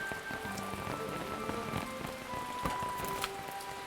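Rain falls steadily on a nearby surface during a sudden mountain rainstorm, a continuous patter with scattered sharper drips and taps, no talking.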